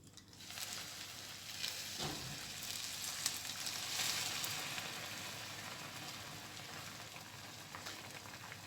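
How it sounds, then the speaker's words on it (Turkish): Boiling water is poured over a hot tray of oven-baked potato manti, setting off a loud, steady sizzle and hiss that lasts throughout with no talk. "Şimdi üzerine kaynar suyumuzu gezdiriyoruz."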